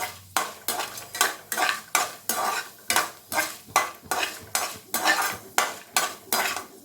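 Asafoetida and a small piece of tamarind fry in oil in a pan while a spoon stirs them in a steady rhythm of about two scraping strokes per second, each stroke clear and close over a faint sizzle.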